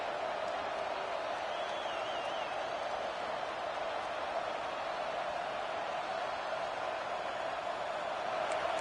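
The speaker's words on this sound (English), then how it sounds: "listen to this crowd noise. This stadium is vibrating." A constant, dense roar of a large stadium crowd in a college football video game fills the space, steady and unbroken with no distinct voices or cheers.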